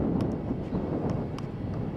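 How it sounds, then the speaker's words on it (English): Steady wind gusting at Faro Airport, a continuous low broadband rush buffeting the microphone with a few faint brief clicks, no talk. "It's quite windy, but not that much."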